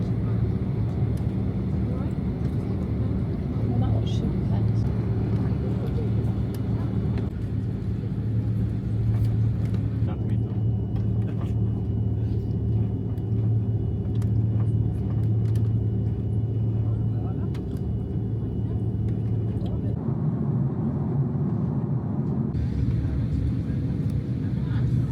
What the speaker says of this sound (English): long haul flight, let's go get in the air and get gone